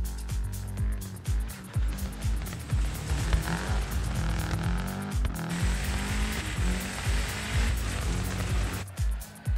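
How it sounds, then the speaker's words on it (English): A rally car engine in the video game Crest WRC revs and sputters unevenly, running rough after damage, with popping bursts and gear changes, loud and up close throughout. "The car does not sound healthy at all"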